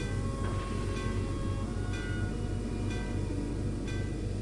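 A train rolls steadily past with a continuous low rumble and rattling, with faint periodic clacks repeating about once per second.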